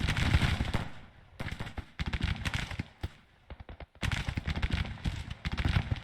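Civil War troops firing in Grand Tactician: The Civil War, with ragged bursts of musket volleys crackling in clusters, a brief lull near the middle, then another thick stretch of rapid overlapping shots.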